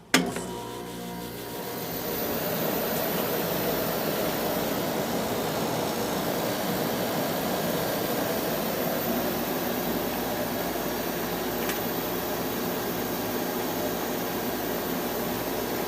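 Newer white Westinghouse window air conditioner with an LG compressor starting up, a short thump at the start followed by a steady, fairly quiet whoosh and hum that holds evenly throughout.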